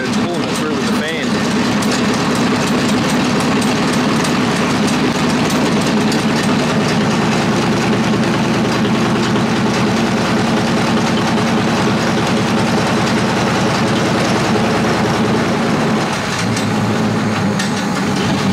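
A Ford V8 engine, with a leaking radiator and the fan running, idles steadily and loudly with a constant low rumble throughout, while a voice talks over it.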